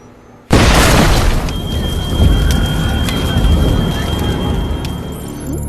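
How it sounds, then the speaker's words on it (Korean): A bomb detonates in a sci-fi film about a killer AI robot squad: a sudden loud boom that becomes a sustained roar of fire and scattering debris, holding steady for several seconds. "국장도 모든 증거를 인멸하기 위해 폭탄 코드를 실행하죠"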